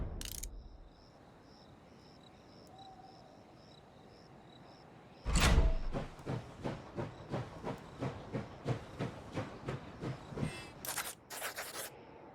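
A steam train in Last Train Home gets going after a sharp hissing burst, its puffs and clacks building into an even, repeating rhythm, with sharp steam whistles near the end over a faint background chirp.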